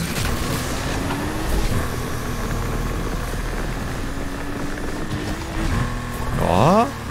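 Simulated sports car engine revving hard as it accelerates in Need for Speed Unbound, a steady loud drone with a rising whine near the end, while someone talks over it.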